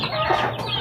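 A chicken clucks in a coop: a short, close, fairly loud burst of clucking that lasts under a second.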